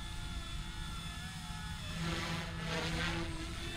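A small Blade 150S RC helicopter flying up close, a steady high-pitched rotor and motor whine that swells and wavers as it maneuvers, with no talking over it.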